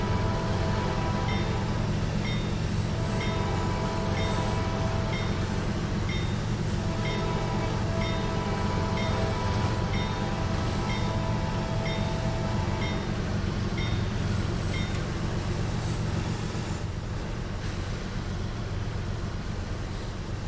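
CSX 107 freight train rolling westbound on a single-track main in Trainz Railroad Simulator 2019, a steady loud rumble of engine and wagons with sustained tonal drone throughout, no talk.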